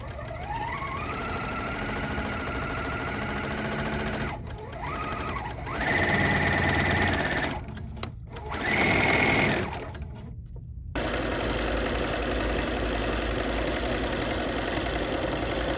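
A serger runs steadily as it stitches around the edge of a bridal veil, with a close mechanical whir that stops and starts a few times.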